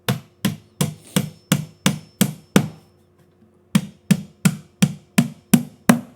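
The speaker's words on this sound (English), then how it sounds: "that hammering noise?" Hammer striking wood outdoors, a run of eight sharp, evenly spaced loud blows, a pause of about a second, then seven more in the same steady rhythm.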